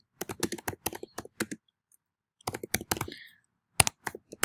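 Typing on a computer keyboard, with quick bursts of crisp key clicks, a short pause, then more rapid keystrokes, close and clear with no talking.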